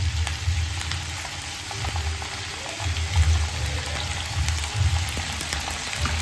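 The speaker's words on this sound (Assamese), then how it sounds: "আৰু এতিয়া ভালকৈ ভাজিব লাগিব" Onion and tomato paste fry in a pan with a dense, even sizzle and crackle, while a low bubbling rumble pulses underneath; no one speaks.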